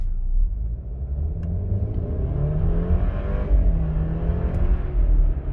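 A 2012 BMW 528i xDrive in sport mode gives a continuous deep engine rumble from inside the moving car as revs rise and fall through gear changes, loud and steady with no talking.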